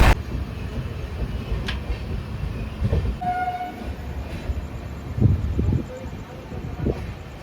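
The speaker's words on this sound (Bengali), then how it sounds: "আমাদের পূর্বাঞ্চল এক্সপ্রেস ছেড়ে বেরিয়ে যাচ্ছে পানাগড় রেলওয়ে স্টেশন থেকে" Purbanchal Express pulling out of Panagarh railway station, a steady low rumble of the moving train with faint rail clatter and a brief horn-like tone, voices faintly audible in the background.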